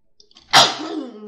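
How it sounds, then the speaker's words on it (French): A single loud, close sneeze bursts out sharply after a brief faint intake of breath, then trails off in a short breathy tail. "Je vais éternuer, j'y arrive pas."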